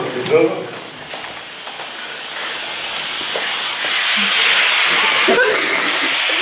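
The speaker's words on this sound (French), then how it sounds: "c'est quoi ce grésillement de con là? Une télé des années 80 ou quoi?" Electrical static hisses and crackles, growing louder and denser halfway through, with a voice briefly audible at the start.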